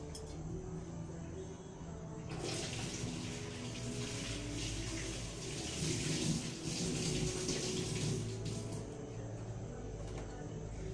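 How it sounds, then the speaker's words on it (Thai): Tap water runs into a kitchen sink during hand washing, a steady close rush and splash that grows fuller partway through and continues without pause, with no talk. "เอาละเดี๋ยวไปล้างมือก่อน"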